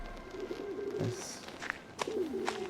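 Pigeon cooing in the video game Submerged: Hidden Depths, a few soft warbling coos over quiet ambient background with faint chirps, no talk.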